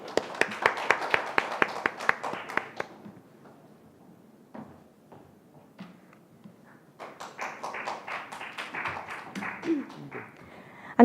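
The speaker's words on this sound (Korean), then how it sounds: "오다인 학생의 연설까지 박수로 이어주십시오." A small audience at a youth speech contest claps for a high school student speaker, a brief patter of scattered hands that fades into quiet room noise, then resumes more loosely before the speech begins.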